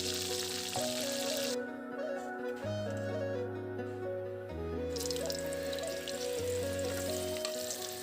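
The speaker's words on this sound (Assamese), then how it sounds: "এতিয়া ৰৈ যোৱা চিপছবোৰ আকৌ আগৰ দৰে ভাজি ল'ম" Banana chips frying in hot oil give a steady, close sizzle that runs the whole way through, with music playing over it.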